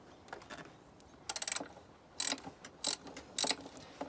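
A ratchet clicks in short bursts while loosening exhaust manifold bolts on a Mini Cooper S R56, several quick ratcheting runs separated by pauses, close and fairly crisp.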